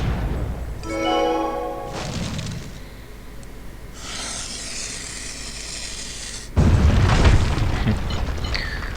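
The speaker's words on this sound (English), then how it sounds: "Now this explosive barrel we can use to explode here, and to get the fire we need to burn this plant." An explosive barrel blows up in a puzzle adventure video game, with game sound effects building to a sudden loud burst near the end, followed by a rumbling, crackling tail.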